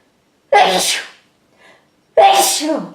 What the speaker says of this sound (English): I might sneeze here